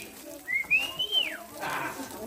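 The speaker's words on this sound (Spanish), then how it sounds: "Ese era el chiflido que le hacía" A single long whistle rises and arcs smoothly like a bird call, fairly clear against a soft background, followed by a brief breathy rustle.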